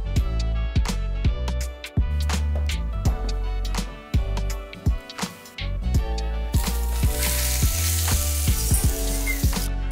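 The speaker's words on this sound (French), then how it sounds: "Et faites cuire le croissant pendant 2 minutes." A leftover croissant sizzles and crackles steadily in a hot panini press or pan, loud and close, with clicks and bumps from handling the appliance and a hissier burst near the end.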